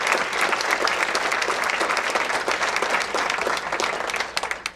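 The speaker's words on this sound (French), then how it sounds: "Merci vous des applaudissements." A gala audience at a tourism awards evening in Chaudière-Appalaches applauds in a dense, steady burst of many hands clapping, filling the room evenly and tapering slightly at the end.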